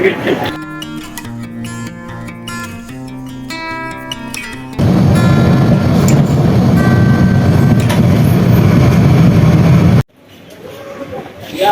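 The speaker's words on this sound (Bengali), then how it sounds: "এটাই হচ্ছে আমাদের ট্রেন এই ট্রেন ধরে আমরা যাব" A train bound for Cox's Bazar, Bangladesh rumbles with a droning engine tone, then swells into a loud, steady roar close by before dropping away, with people talking.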